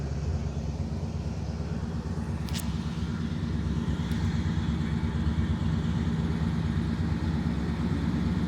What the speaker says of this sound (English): Very nice dual exhaust system. Not too loud, just the perfect amount of rumble